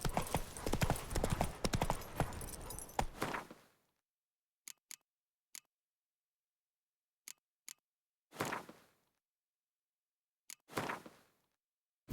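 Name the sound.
horse Roach's hooves galloping in video game Witcher 3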